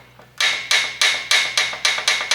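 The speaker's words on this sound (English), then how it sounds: "your rocker arm knocking back and forward on the shaft" A Shovelhead's rocker arm is rocked back and forth on its shaft with a screwdriver, giving seven sharp metallic knocks at a steady, even rhythm, close and loud with no talking.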